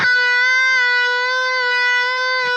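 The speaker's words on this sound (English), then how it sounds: "You can either do the vibrato where the beat occurs when the note is not bent" An electric guitar holds a single sustained note with steady vibrato, its pitch waving in a regular beat while the note sits unbent. It is played alone and clearly up close, with a faint pick attack near the end.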